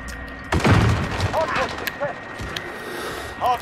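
Gunfire in Modern Warfare multiplayer, with a sharp burst of shots up front followed by scattered thuds and lighter pops, while a player talks intermittently over the game sounds.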